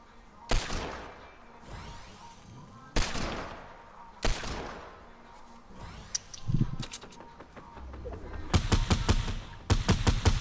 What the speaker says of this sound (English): Yeah, I'm getting sniped at.